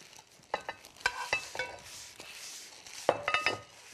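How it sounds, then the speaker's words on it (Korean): Bread tossed by hand in a bowl with garlic, salt and pepper seasoning gives soft crumbly rustles with a few sharp clinks against the bowl, close and fairly quiet, with no talking. "빵을 네. 넣고 골고루 섞어주시는 거예요."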